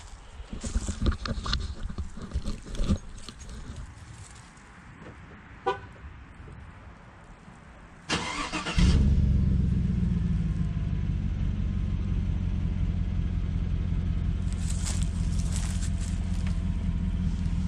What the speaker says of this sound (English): so just a regular start of this truck